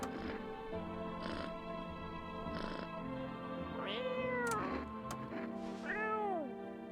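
A cat meows repeatedly in a spooky video game, a series of clear, drawn-out meows with rising and falling pitch, some long and wavering, close and fairly loud over a soft background hum.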